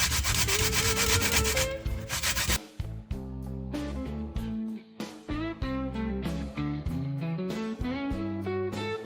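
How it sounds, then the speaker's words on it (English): Coconut grated by hand for Jamaican gizzada filling, a dense rhythmic rasping scrape that runs steadily at first and then continues under loud music. "So I'm gonna start grating my coconut for the filling."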